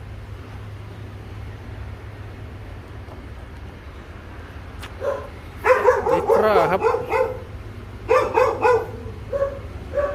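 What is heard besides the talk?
dog barking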